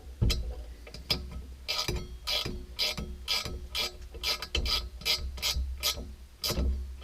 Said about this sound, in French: on fait le tour comme ceci pour serrer de façon homogène partout